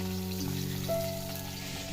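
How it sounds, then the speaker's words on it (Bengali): Fish fries over a wood fire with a faint, steady sizzle that continues throughout, accompanied by a sustained low droning hum. "দেখো যে এখানে মাছ ভাজা হচ্ছে"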